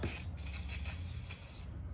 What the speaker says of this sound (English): I'm gonna go back behind and spray it again. Some mass airflow cleaner.